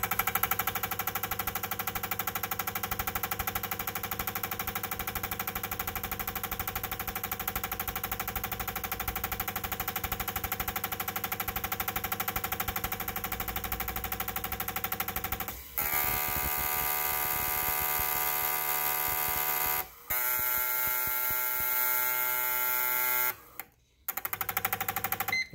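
ID1000 and Bosch 95 fuel injectors run on a test bench through a rapid speed-shifting test, a dense buzzing whine that holds steady and then abruptly changes pitch and pattern several times, with brief gaps near the end.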